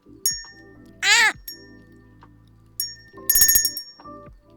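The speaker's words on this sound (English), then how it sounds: "Sometimes the bell doesn't ring properly and it's really quiet." A loud streaming-alert bell rings out in a bright, ringing burst about midway, after an earlier short rising-and-falling tonal chirp over a quiet background hum.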